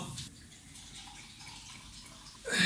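A tap is turned on to fill a glass of water. A quiet stretch gives way near the end to a sudden, loud gush of running water.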